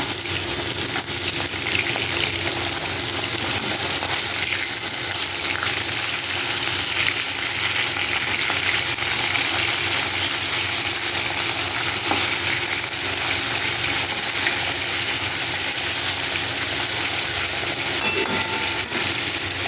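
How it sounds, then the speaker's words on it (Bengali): Rohu fish pieces fry in hot oil, a loud, dense, unbroken sizzle and crackle holding steady throughout, close and alone with faint clinks now and then. "এইদিকে মাছটাও কিন্তু প্রায় ভাজা হয়ে আসছে"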